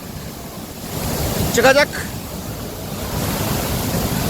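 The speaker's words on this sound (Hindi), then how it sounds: "हवा के साथ में बहुत सारा पानी शावर के रूप में उड़ता हुआ आ रहा है" Wind drives heavy water spray off a waterfall, a steady roaring wash of noise with gusty microphone buffeting, and a voice briefly exclaims in the middle.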